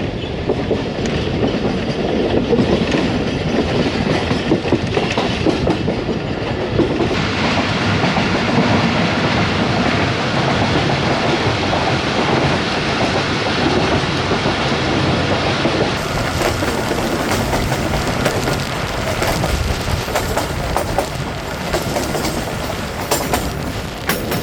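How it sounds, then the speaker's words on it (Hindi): The Karakoram Express rolls slowly through Jia Bagga railway station, a loud, continuous rumble with steady clickety-clack of wheels over rail joints close by, running unbroken throughout. "जिया बग्गा रेलवे स्टेशन से थ्रू पास हो रही है कराक्रम एक्सप्रेस,"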